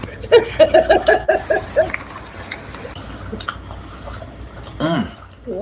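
Someone chews a cheeseburger made with pork brains and bugs close to the mic, a quick run of wet, crunchy bites followed by softer mouth sounds.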